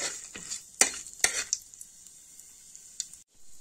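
Brief stirring clatters over a soft, steady sizzle of cardamom and cinnamon frying in ghee on low heat, close by, with a few sharper scrapes early on and a quieter hiss afterward.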